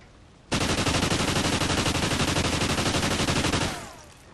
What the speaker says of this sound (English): So we're going to go ahead, hip fire it, and then aim down sights.